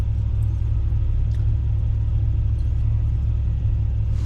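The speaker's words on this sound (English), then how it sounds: "Just so as long as you rev it up. Oh, it's staying running." A one-dollar truck's engine runs steadily with a loud, deep rumble close up, holding a constant idle-to-rev drone throughout with no speech over it.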